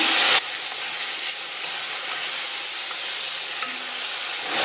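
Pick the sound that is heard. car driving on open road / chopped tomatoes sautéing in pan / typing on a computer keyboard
chopped tomatoes sautéing in pan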